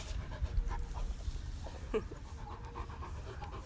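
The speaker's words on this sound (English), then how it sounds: "When Max pants, I know he needs a drink of water" A dog pants quietly in quick, steady breaths, with a soft whimper-like sound midway, close by in a calm room.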